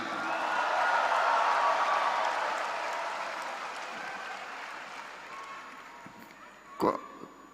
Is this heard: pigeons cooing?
no